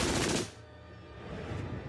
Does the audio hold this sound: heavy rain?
no